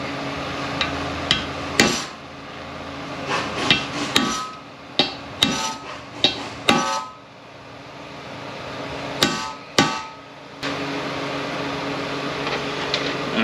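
Metal tool clicks and clanks of a socket on 6T45E transmission bolts, a series of sharp, close taps in irregular clusters over a steady low machine hum, with no talking.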